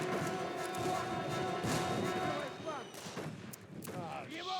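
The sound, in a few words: gunfire in the video game Darkest of Days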